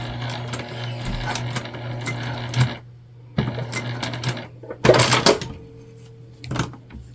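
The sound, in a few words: sewing machine sewing a basting stitch on a bag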